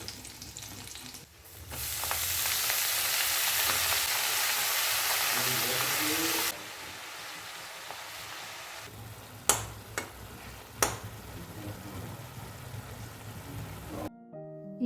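Greens (saag) fry in a pan with a loud, dense sizzle for several seconds, then quieter kitchen noise with a couple of sharp clinks as the cooking continues.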